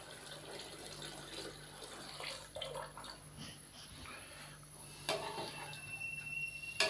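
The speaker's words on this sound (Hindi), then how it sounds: "मैं इसके अंदर 6 गिलास पानी शामिल करूँगा।" Water pours steadily into a cooking pot for chicken pulao, a continuous close splashing and trickling, with a brief clink near the end.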